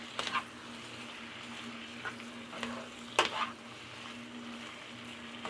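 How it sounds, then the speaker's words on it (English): Pasta being stirred with butter and seasoning in a frying pan gives soft, irregular scraping strokes over a low, steady sizzle, quiet and close with no voices. "Mix that up to get some of that butter and seasoning on the pasta as well."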